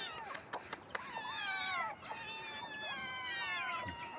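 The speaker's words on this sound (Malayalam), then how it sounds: "പിന്നെയുള്ളത് പൂച്ചക്കുഞ്ഞുങ്ങളാട്ടോ" Three kittens mew in a run of short, high, rising cries, close and fairly clear, with a few sharp knocks at the start and no talk.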